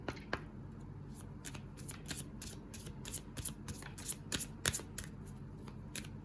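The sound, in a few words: shuffling moon phase cards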